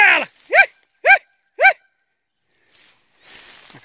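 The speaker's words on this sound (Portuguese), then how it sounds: "A cachorrada trabalhando lá." A pack of hunting dogs bark while chasing a paca: a short burst opens, then three loud, evenly spaced barks ring out close by, followed by a quiet pause and faint rustling with no talk.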